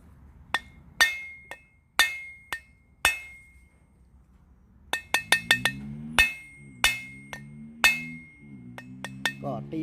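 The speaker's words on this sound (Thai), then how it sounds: "แล้วก็จะกระแทกน็อตตัวนี้นะครับ" Sharp metallic hammer blows strike a bolt to split the crankcase of a two-stroke engine, landing in irregular clusters of ringing clanks, close and loud, with a low mechanical hum beneath the later strikes.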